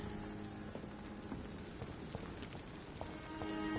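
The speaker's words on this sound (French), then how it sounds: "Oh, il pleut." Rain falls steadily in the Vampyr video game, a soft, even hiss of drops on surfaces with occasional faint clicks, heard alone at low volume.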